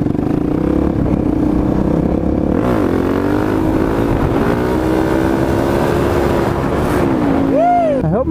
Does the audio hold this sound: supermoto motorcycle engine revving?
yes